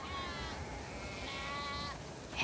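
Sheep bleat in The Last of Us Part 2 on a farm, drawn-out, wavering calls, two long bleats one after another, fairly quiet, with a brief rustle at the end.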